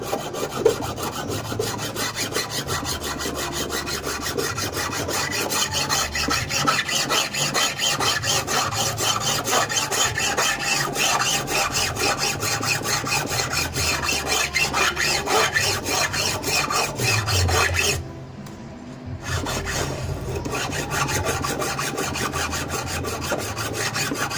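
A metal file rasps against silver while shaping a square chain necklace, in rapid, even back-and-forth strokes. The scraping is close and continuous, with a brief pause near the end.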